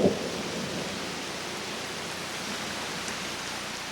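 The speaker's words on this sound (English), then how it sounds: "Often it will come in violent torrential downpours." Torrential rain downpour in the Kalahari Desert, a steady dense roar of heavy rainfall that holds evenly throughout, with a brief louder burst at the very start and no voices.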